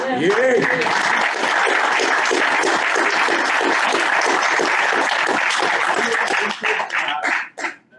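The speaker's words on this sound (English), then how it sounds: "I think you need a round of applause." Sustained applause from a panel discussion audience, dense steady clapping that fills the space, then thins out and fades at the end.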